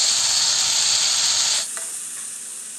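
Ginger, garlic and coriander paste sizzles loudly in a frying pan after sautéed onion, a steady broadband hiss that suddenly drops to a quieter, softer sizzle partway through, with a couple of faint clicks.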